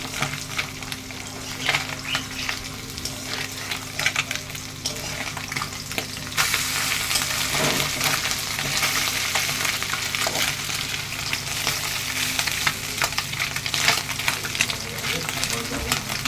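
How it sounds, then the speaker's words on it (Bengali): Kachki fish frying in oil in a pan, a continuous close sizzle that grows denser and louder partway through, with bursts of crackle and stirring. "দেখুন মাছগুলো এক সাইড ভাজা হয়ে গেছে"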